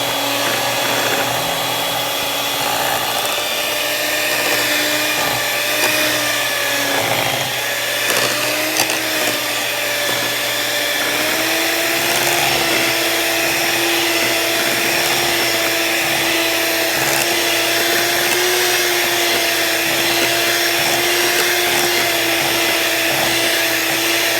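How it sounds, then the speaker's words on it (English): An electric hand blender running on its higher setting through banana nut bread batter, a loud continuous motor whine that holds steady for the whole stretch, with slight pitch shifts as the load changes and no voices. "I'm gonna go back in with my blender before I put my sour cream and nuts in here"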